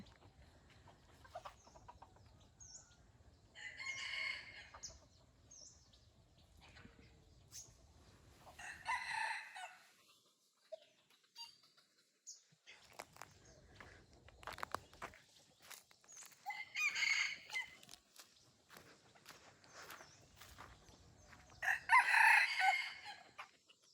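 Jungle fowl released into a forest crow loudly several times and cluck between crows, with light footsteps and rustling in a quiet outdoor setting.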